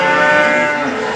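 Javanese cattle at the Guyangan livestock market moo in a loud, sustained, close bellow that fills the moment with no talk over it.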